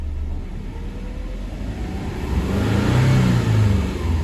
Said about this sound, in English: let's go ahead and raise the engine RPMs